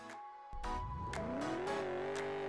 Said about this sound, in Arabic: احب العاب السيارات